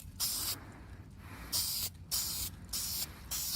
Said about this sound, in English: So here we are, trying to make it so I can see and spray.